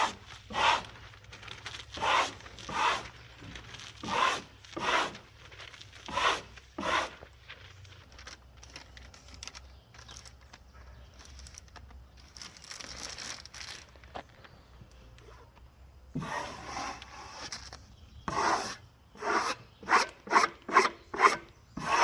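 Plastic backing film being peeled away from plywood sheathing on an off-grid cabin wall, a series of close, raspy tearing and rubbing strokes in uneven bursts with short pauses between pulls.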